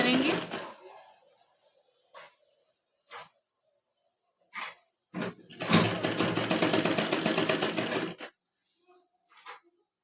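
A sewing machine stitches piping onto a boat neck blouse, running in short bursts and then one longer steady whirring run of about three seconds, close and loud, with pauses between.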